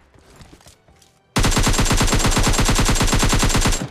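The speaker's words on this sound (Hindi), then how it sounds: "वेल देखो राइट साइड से भी गनशॉट्स की आवाज आ रही है" Sustained automatic gunfire from PUBG Lite bursts in loud and close after a quiet moment of faint distant shots, then hammers on in a rapid, even stream of reports.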